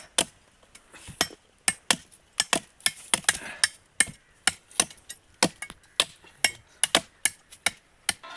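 A blade chops into a tender coconut in a grove, sharp close whacks repeating in a brisk, slightly uneven rhythm of about two strikes per second, with faint crackles between hits.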